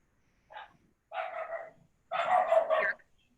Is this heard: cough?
no